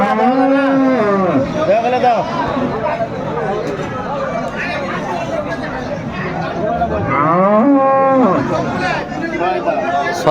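Cows moo loudly a few times at a cattle market in Dinajpur, Bangladesh, long drawn-out calls rising over the constant chatter and babble of a busy crowd.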